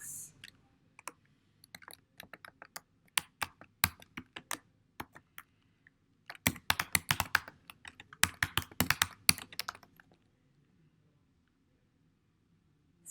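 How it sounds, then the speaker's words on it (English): Someone types on a computer keyboard while entering an item number into a requisition form. Keys click in scattered taps, then speed up into a dense burst before stopping, close and clear with no voices. "you will just begin typing your item number into the box"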